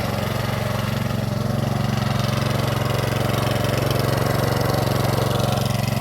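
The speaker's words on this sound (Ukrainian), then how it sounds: "І будемо сапати ось таку грядку з бур'янами щоб не руками, а мотоблоком" Walk-behind tractor with a hoe attachment working a weedy garden bed, its small engine droning loudly and steadily throughout with no pauses.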